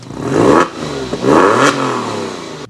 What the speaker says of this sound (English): Nothing like a little rev on a cold engine.